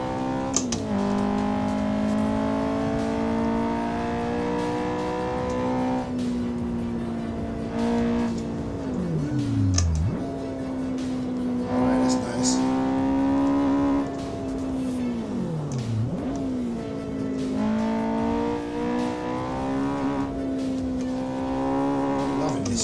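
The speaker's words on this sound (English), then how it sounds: "VTEC kicking in, let's go" Honda engine revving hard as VTEC engages in Assetto Corsa on the Nordschleife, a loud continuous engine note with pitch climbing through gears and dropping sharply at shifts, steady throughout.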